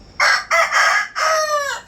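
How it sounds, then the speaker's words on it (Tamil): A rooster in a home garden crows loudly and close by in the morning, giving a full cock-a-doodle-doo of four rising and falling notes with no other sound over it. "கோழி ஒரு பக்கம் கத்திகிட்டே கிடக்கு"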